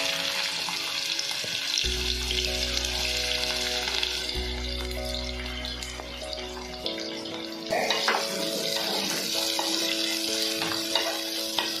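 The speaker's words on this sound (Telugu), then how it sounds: "ఆనియన్స్ బాగా దోరగా గోల్డెన్ బ్రౌన్ వచ్చేంత వరకు వేయించుకోవాలి." Onions frying in hot oil for a chicken curry, a steady loud sizzle with bubbling that runs through the whole stretch, while a low steady hum sits underneath.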